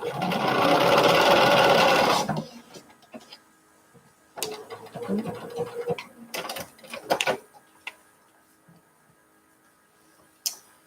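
A sewing machine stitches fabric in one loud, close burst of about two seconds, then falls quiet apart from scattered clicks and handling noises.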